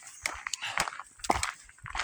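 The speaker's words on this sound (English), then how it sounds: "out walking the dogs" Dogs being walked along an Oregon hiking trail: scattered paw and footstep crunches, jingling and small dog noises, close and irregular, with a quiet outdoor backdrop.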